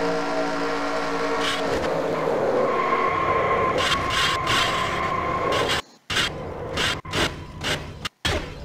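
A race car in an off-road racing video game skids and scrapes after a hit, with a sustained grinding rumble followed by several abrupt cutoffs and short bursts near the end.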